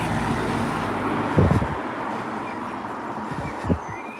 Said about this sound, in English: We've got a car coming now